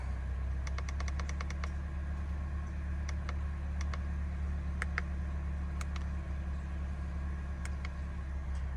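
A 2018–2022 Toyota Camry SE engine idles steadily after starting, a continuous low hum with faint repeated ticks and clicks above it, close and even throughout with no talking.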